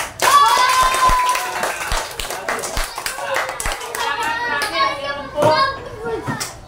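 Students in a classroom clap their hands together in a loose, uneven burst, mixed with children's chatter and a teacher's voice talking over the clapping.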